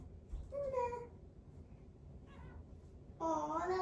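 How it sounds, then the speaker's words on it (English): A one-year-old kitten meows twice up close, a short rising call and then a longer, louder one at the end, with a quiet indoor background between them. "that was a cute meow."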